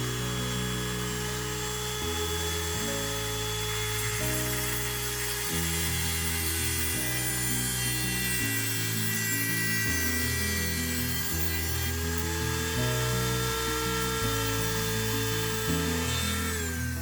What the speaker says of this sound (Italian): prendete il vostro amato Dremel. Tagliate la vite 1 millimetro, mezzo millimetro circa dopo il dado autobloccante.